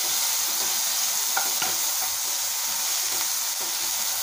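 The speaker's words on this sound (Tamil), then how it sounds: "இப்போ நல்லா வதக்கி கொடுக்கலாங்க" Onion, green chilli, garlic, tomato, curry leaves and coriander sautéed in a pan, a constant close sizzle punctuated by several distinct spatula scrapes and taps, no voices.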